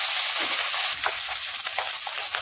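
Fish frying in a pan, a steady loud sizzle and crackle with faint stirring or shifting sounds close by, no voices.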